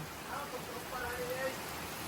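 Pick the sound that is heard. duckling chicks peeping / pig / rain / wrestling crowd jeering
rain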